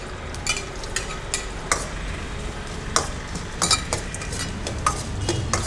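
Crushed garlic, pepper and green chillies crackling in oil for a crab rasam tempering, a continuous sizzle broken by frequent sharp ladle taps and scrapes against the pan.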